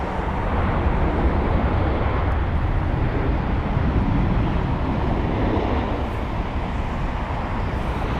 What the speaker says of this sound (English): an amazing arrival into London Heathrow. That is BA367 from Marseille, an A319 doing that flight